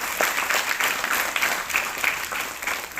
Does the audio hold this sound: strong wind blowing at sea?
no